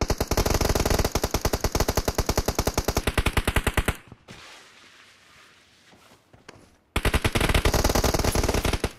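Rapid bursts of video game machine gun fire, loud and close, stopping for a few seconds of quieter shuffling before firing resumes in a steady stream.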